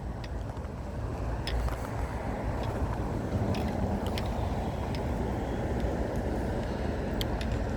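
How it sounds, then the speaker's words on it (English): A dump truck idling right after emptying a load of gravel on a Coral Gables street, a steady low engine rumble throughout with faint clicks and ticks above it and no talk. "this is the truck that just dumped, a dump truck that just was dumping a load of"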